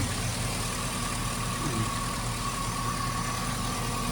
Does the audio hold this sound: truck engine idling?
yes